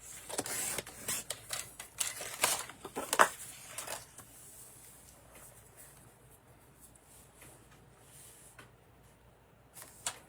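Cardstock being cut into a background base for a handmade card, heard as a run of crisp, close clicks and snips over the first four seconds, then near silence.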